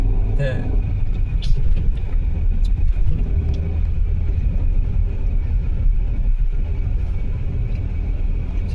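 A Maruti Brezza drives along the road toward Revas jetty, with a low engine rumble and road noise heard from inside the cabin throughout, while people talk over it.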